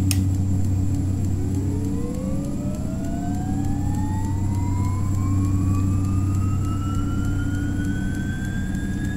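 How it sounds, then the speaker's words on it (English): Beechcraft 1900D left turboprop engine starting in the X-Plane 10 flight simulator: a steadily rising whine climbs the whole time over a loud, constant low drone, with no talk. "And then I'm going to be starting the left engine."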